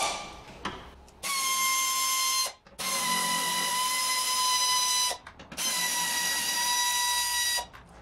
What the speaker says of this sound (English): Now I'm going to use air tools